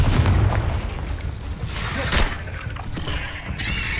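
A Confringo spell detonates in Hogwarts Legacy, a loud, close boom followed by crackling debris and a rumbling tail that carries on under other game sound effects.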